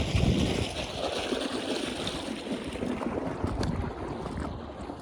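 Irrigation water runs steadily across a farm field of peas, chickpeas and coriander, a continuous broadband wash and rush with wind buffeting the microphone, close and fairly loud throughout.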